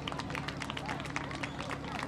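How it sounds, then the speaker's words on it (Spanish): A crowd applauds the calf-roping prize winners at a gaucho rodeo, a steady patter of claps under an announcer's amplified voice. "Fuerte el aplauso"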